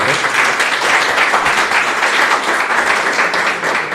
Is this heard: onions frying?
no